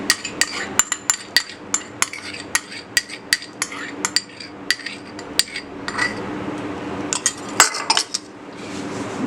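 Spoon clinking against a bowl while coffee and cream are mixed into melted chocolate, a steady run of sharp metallic taps and scrapes, fairly close, with no talking.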